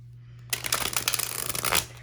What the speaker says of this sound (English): let's see how this baby shuffles